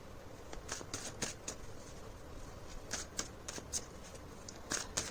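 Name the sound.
shuffling tarot cards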